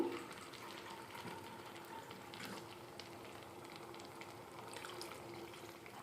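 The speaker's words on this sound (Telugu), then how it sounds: "ఇప్పుడు కొంచెం వాటర్ పోసుకుందాము" Water poured from a cup into an Andhra-style egg and broad bean curry in a pan, a steady gushing, bubbling pour that runs close and continuous, with faint sizzling beneath.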